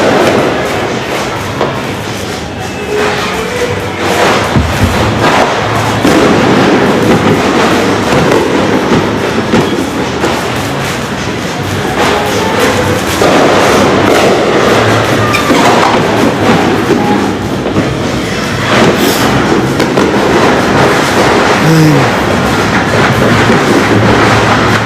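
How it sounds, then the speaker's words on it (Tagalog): Loud, dense crackling and popping bursts fill the scene continuously during New Year's celebrations, with sharp thuds scattered throughout, like a long string of firecrackers going off nearby. "Lakas pa rin talaga ng paputok."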